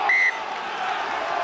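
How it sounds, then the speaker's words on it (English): A referee's whistle shrills once, short and sharp, over the steady roar of the crowd at a Munster versus Connacht rugby match. "Whistle has gone."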